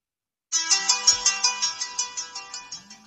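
A phone rings after a call is placed from a Haylou RS5 smartwatch: a clear electronic ringtone starts abruptly and pulses in a quick, even repeating pattern, loud and close with no talking.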